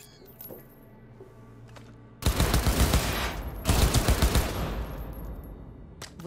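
Gunfire in the video game Cyberpunk 2077: after a quiet start, loud rapid bursts of automatic fire erupt and keep rattling in dense volleys for several seconds, with metallic clinks scattered among the shots.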